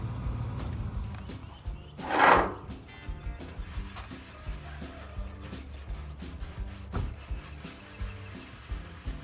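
Wet sanding of a vintage metal chair with an abrasive pad like a Scotch-Brite gives a continuous close rubbing scrub, rising into one louder rasping swipe early on, with no talking.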